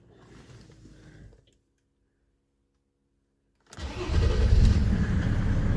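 Mercedes W140 S300 Turbodiesel starting on a new starter motor: after a short stretch of cabin noise and then silence, the engine cranks briefly and catches, settling into a loud, steady diesel idle close by.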